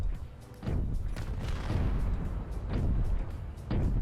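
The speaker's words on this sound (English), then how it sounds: "I love these cannons here because they're kind of like Battlestar cannons." Cannons fire in the Space Engineers space combat game, with several heavy booming blasts at irregular intervals, loud and close, layered over a continuous low rumble.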